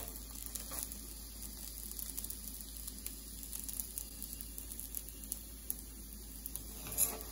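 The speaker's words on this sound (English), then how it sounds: "Keep it in a medium flame and cook until golden brown." Boli flatbread fries in a pan over a medium flame, giving a soft, steady sizzle with small crackles, quiet and close, with no talking.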